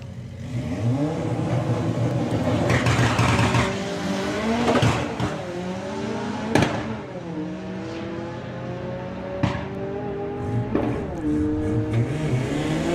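A VW Caddy with a 1.8 turbo engine drag racing at Bug Jam, loud engine revs rising and falling through repeated gear changes, with a second car's engine mixed in and sharp bursts along the run.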